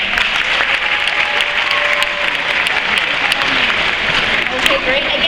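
A crowd at a Shedd Aquarium show claps in steady, dense applause for several seconds, with some audience voices mixed in.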